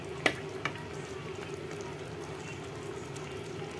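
Quiet simmering sizzle from a pan of milkfish in coconut milk, with a couple of soft scraping clinks of a utensil stirring near the start.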